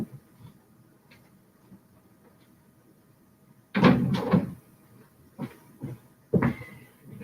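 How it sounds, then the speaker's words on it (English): A door is pushed shut indoors with a sharp thud and a brief rattle, followed by a few lighter knocks and bumps as it settles. "Let me shut the door here."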